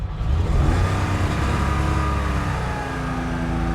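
A 1975 Porsche 911 2.7 Carrera with mechanical fuel injection idles fast and steady on choke, a loud, sustained high rumble that eases down slightly in pitch as it runs.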